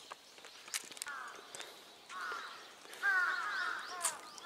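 Crows caw a few times overhead, harsh and slightly distant, amid faint scuffing steps and quiet outdoor ambience at the Mozu kofun burial mounds near Emperor Nintoku's tomb.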